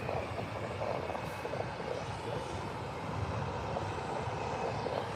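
Ryanair Boeing 737 jet taxiing out at Birmingham Airport, a steady broadband engine roar held at an even level throughout, moderately distant with no voices.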